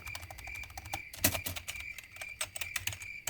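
Close-up typing on a computer keyboard, quick irregular key clicks with a few louder taps, no voices.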